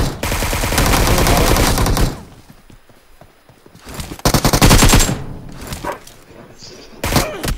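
Rapid automatic gunfire from the mobile video game Free Fire rattles loudly in dense bursts separated by quieter pauses, with a voice speaking between them.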